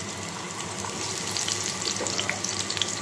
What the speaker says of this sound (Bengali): তেলটা গরম হয়ে গেছে, এখন মাছগুলো দিয়ে দিব